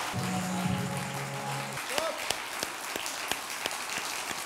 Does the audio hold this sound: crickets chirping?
no